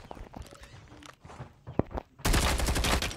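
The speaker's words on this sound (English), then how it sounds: "I survived that gunfight" Gunfire from the CR-56 AMAX rifle in a Call of Duty gunfight: scattered footsteps and a single sharp shot, then a sudden loud burst of rapid automatic fire closing the clip.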